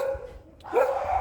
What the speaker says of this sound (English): what is up with these dogs